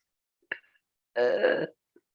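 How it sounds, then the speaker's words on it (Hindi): A woman lets out a short belch and then a longer, drawn-out burp during yogic cleansing (shatkarma) practice, both close and fairly quiet against near silence. "मुझे लगता है कि मेरी आवाज, डकार की आवाज आपको आ रही है।"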